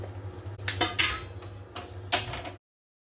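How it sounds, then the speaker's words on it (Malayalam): A spoon scrapes and clinks against a pressure cooker as turmeric, chili and coriander powders are stirred into a beef gravy curry, a few soft strokes close by with no talk. "ഇവയെല്ലാം കൂടി നന്നായി ഇളക്കി യോജിപ്പിച്ചെടുക്കണം."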